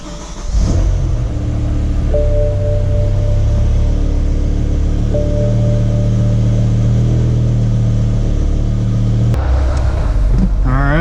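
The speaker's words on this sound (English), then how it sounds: "start the car and set a timer and run the car for 10 minutes" A BMW E60 M5 with the S85 V10 engine runs at idle after starting, a loud steady mechanical hum with a constant low rumble and a brief rev, continuing evenly until a sharp change near the end.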